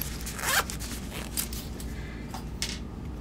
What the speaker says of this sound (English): this one's going to come in the ZT zipper pouch with the golden fleece lining